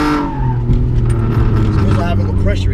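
A car drifting on a street, its tyres run at low pressure, with a loud, steady engine roar and skidding tyre squeal throughout.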